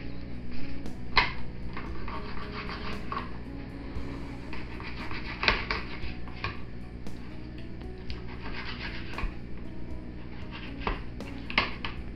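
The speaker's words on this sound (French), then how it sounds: "je découpe les morceaux assez gros pour pouvoir retrouver à la cuisson les morceaux" A knife cuts veal into large pieces on a board, making soft irregular taps and scrapes at close range with the occasional clink of a utensil.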